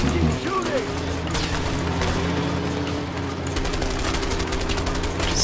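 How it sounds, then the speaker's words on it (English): Gunfire from shooting in the video game A Way Out, a steady stream of loud shots layered over a constant engine drone, with voices talking throughout. "Oh, I'm shooting now."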